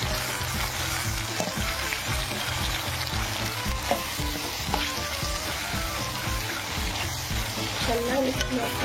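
Tomatoes fry and get stirred in a pan, a dense steady sizzle close up with occasional light scrapes, and a voice faintly underneath.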